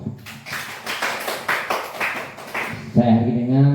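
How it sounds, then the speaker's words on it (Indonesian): A few hands clap in an even rhythm, about two claps per second for three seconds, close and moderately loud in a small room, followed by a voice speaking. "Tepuk tangan untuk kita semua."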